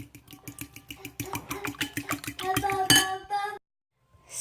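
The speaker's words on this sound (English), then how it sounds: "So let me beat these eggs." Eggs seasoned with salt and garlic powder beaten in a bowl, a fast run of rhythmic utensil clinks against the bowl, close and lively, stopping abruptly before a short quiet.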